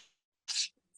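A single short, sharp sneeze bursts out of near silence, close and fairly loud, followed by a faint brief sound.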